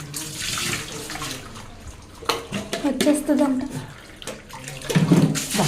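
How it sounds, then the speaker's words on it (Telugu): Water poured from a mug over a puppy during a bath at home splashes in irregular bursts, close and fairly loud, while a person talks over it. "మగ్గుతో నీళ్ళు పెట్టేస్తుంది"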